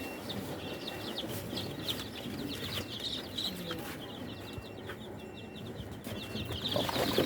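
Rooster and hens in a poultry setting, with steady clucking and chirpy calls running throughout over a continuous low barnyard rumble, growing slightly louder toward the end.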